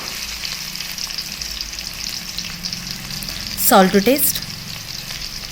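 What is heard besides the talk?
chopped onions frying in hot oil in a pan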